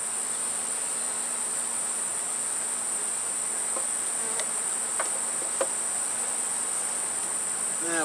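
Honey bees in a late-season hive covering about five frames give a steady, close buzzing drone throughout, joined by a high constant whine and a few brief clicks, with no voices.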